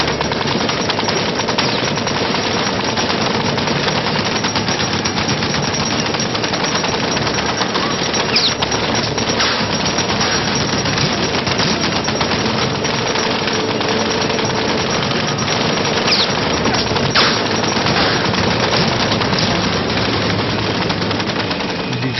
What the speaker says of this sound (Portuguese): Os homens de Jim decidiram então atacar o franco-atirador com uma metralhadora pesada